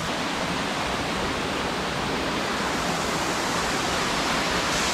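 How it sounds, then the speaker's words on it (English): River water rushes in a steady, dense roar, like a waterfall or fast current, at constant loudness throughout with no voices. "The sounds of the water flow."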